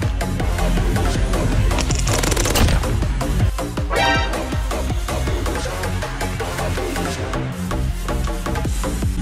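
Airsoft minigun firing rapid bursts during a juggernaut-style skirmish, loud dense crackling volleys that stop and restart, with a short pause around the middle and sharp clattering pellet impacts.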